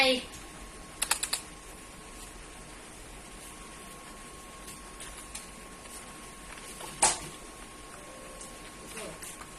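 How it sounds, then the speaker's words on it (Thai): A few sparse, close keystrokes sound on an unlit computer keyboard, with small bursts of clicks separated by long stretches of low room hum and a faint steady tone. "ตัวนี้นะคะจะเป็นคีย์บอร์ดไม่มีไฟนะคะ"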